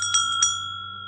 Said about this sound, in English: we do have a Christmas bell collection over here. They're all vintage bells.